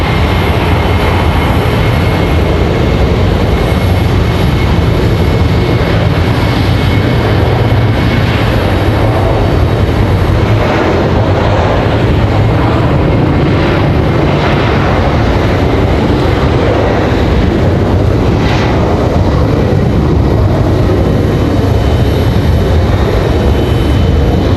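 A Delta airliner takes off at Raleigh-Durham International Airport, a loud, steady broadband engine roar that holds without pause for the whole stretch.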